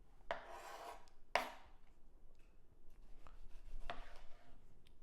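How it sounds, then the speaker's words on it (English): A knife slicing through a tomato on a cutting board in a home kitchen, heard as three or four quiet, sharp cuts and scraping rasps spaced a second or two apart, close and alone with no talking. "All right, time to cut this tomato."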